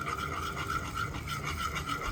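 Condensed milk and milk being stirred together in a bowl for homemade chocolate ice cream, a steady rasping, scraping whisk rhythm close by, continuous and fairly quiet with no talking.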